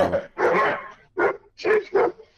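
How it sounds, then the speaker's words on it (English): Excited barking from two hyper Weimaraner dogs indoors, several loud close barks in quick bursts, the first ones longer and rougher, followed by three shorter sharp barks. "I have two Weimaraners that are hyper"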